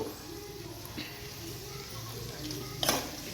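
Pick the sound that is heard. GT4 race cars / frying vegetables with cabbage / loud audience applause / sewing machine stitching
frying vegetables with cabbage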